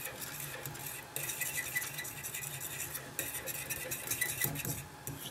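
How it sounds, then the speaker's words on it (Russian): A spoon scrapes and clinks against a pot while a gelatin mixture boils for a homemade hair lamination treatment, with quick steady stirring strokes up close and no speech. "Кипит наша смесь. Мешаем, мешаем."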